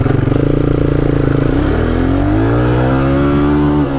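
Honda 400ex quad with a stage 2 Hotcams engine revving hard close by, pulsing at first then the pitch climbing after an upshift around mid-clip, loud and alone.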